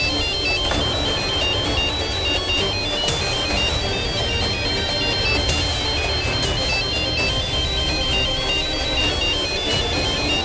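A phone rings somewhere inside a house, its repeating electronic ringtone pattern continuing steadily for the whole stretch at a moderate, slightly distant level, with no talking over it.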